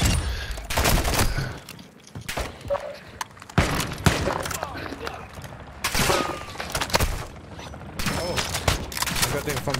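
Repeated bursts of automatic gunfire and sharp single shots from the Call of Duty MW2 DMZ video game, loud and close, arriving in uneven volleys across the whole stretch with players talking over the shooting.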